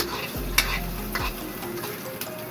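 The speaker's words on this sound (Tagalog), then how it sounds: "Igisa na natin." Mussels sauté in a pan with a continuous sizzle, interrupted by a few scraping stirs and light clinks of a utensil against the pan.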